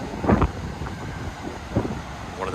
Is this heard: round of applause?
no